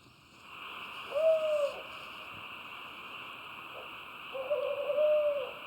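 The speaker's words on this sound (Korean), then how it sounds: "봉암사 숲의 최강자 올빼미의 울음소리다." In the Bongamsa temple forest at night, an owl gives two long, wavering hoots a few seconds apart against a steady hum of insects. It sounds moderately near and calm.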